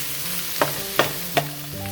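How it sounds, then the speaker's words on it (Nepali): Mushrooms frying in hot oil in a pan for mushroom choila: a steady low sizzle with three sharp utensil scrapes or taps spaced about a third of a second apart, fairly close, with no voices. "अब यो मसरुम चाहिँ रातो हुने बेलासम्म फ्राई गर्नुपर्छ।"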